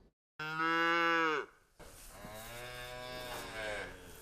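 Dairy cows on a farm moo loudly and up close: one long low call, a brief pause, then a second drawn-out moo that rises and falls, with no talk.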